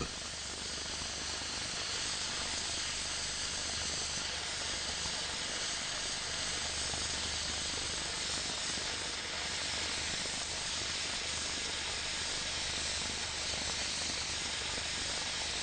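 Steady, loud hiss of an oxy-fuel torch cutting a steel sheet by hand, a continuous broadband rush with no breaks and no voices.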